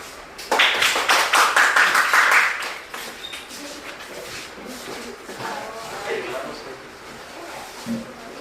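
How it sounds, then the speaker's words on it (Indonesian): Applause breaks out in a classroom or hall during a student group presentation session, a burst of clapping for about two and a half seconds that fades into quieter murmuring and scattered voices. "Oke, beri aplaus."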